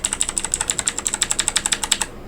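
Mechanical keyboard on a Keychron Q2 custom board, its key clicks struck in a fast even run of about two dozen sharp, bright presses, close up with nothing else audible.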